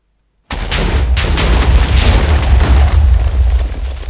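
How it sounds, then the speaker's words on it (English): A large TNT explosion in a video game bursts in abruptly after a moment of silence, then rolls on as a loud, sustained, rumbling roar with crackling pops through to the end. "That was a lot of TNT. It was a lot, much larger explosion."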